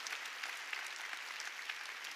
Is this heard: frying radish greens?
no